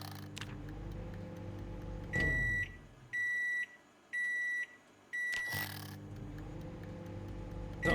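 An in-game timer in Project Zomboid beeps in four short bursts at an even pace, loud and clear, with quieter background noise before and after.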